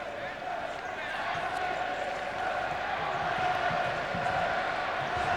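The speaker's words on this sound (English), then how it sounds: "Crowd trying to sing France to a goal here now." Football stadium crowd at a France versus Brazil centenary match, a loud, continuous roar of massed voices chanting and singing together, sustained and dense throughout without pause.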